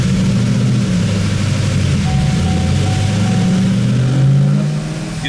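A fifth-generation Chevrolet Camaro 1LE with a TR6060 transmission runs on a dyno, its engine giving a loud, close, steady drone. The revs swell and settle slightly before the sound eases off at the end.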